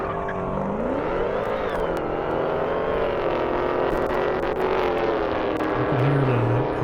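A Dodge Hellcat at an airstrip drag race, its supercharger whine heard from a distance as a continuous rising and falling tone over a broad engine roar, steady and moderately loud without talking.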